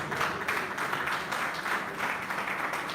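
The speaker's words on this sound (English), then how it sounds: "A round of applause, please." Applause from the audience at a Nigerian crime reduction and prevention summit, a steady wash of clapping with small swells, moderately loud and without talk.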